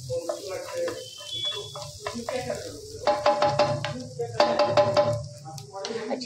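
Finely chopped ginger sautés gently in butter in a pan over a low flame, a soft sizzle broken by stirring scrapes and light utensil clinks, with a voice talking over it.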